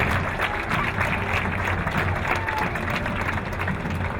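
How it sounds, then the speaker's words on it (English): A parade crowd applauds the color guard in steady, moderately loud clapping, with a low rumble and some background talk mixed in. "You can now give them a great round of applause if you would."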